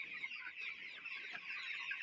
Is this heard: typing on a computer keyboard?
no